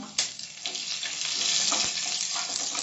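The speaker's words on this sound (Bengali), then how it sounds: "এবারে কারি পাতা দিয়ে দিলাম" Fenugreek seeds and curry leaves frying in hot oil for Karnataka-style vegetable sambar, a loud hissing crackle that bursts up at the start and stays thick throughout, with faint stirring knocks, close and alone.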